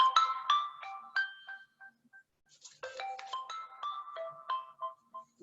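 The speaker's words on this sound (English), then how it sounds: "please excuse me, there's a phone coming," A telephone ringtone plays in two melodic bursts with a short pause between them, clear and fairly close, with no talking over it.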